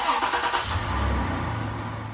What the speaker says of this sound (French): Et on entend le moteur qui démarre.